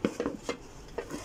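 Pakora batter is stirred in a bowl for kadhi pakoras, giving a few close, quick scraping and clinking strokes of spoon against the bowl.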